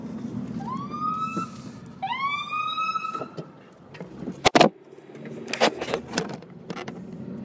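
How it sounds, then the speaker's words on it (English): An ambulance siren passes outside, sounding two short rising whoops followed by clattering and knocking noises close by. "Ambulances."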